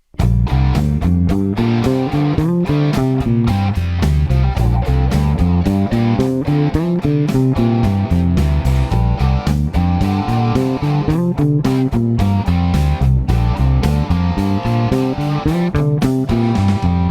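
Guitar working through a pentatonic scale exercise over a full backing track, steady and continuous throughout, with the lead line woven into a loud, dense band mix.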